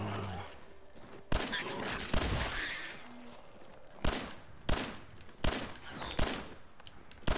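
Gunfire in the video game Fallout 4, several sharp loud shots spaced irregularly over a few seconds after a quieter opening, with faint background game noise between them.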